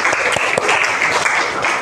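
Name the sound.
class applause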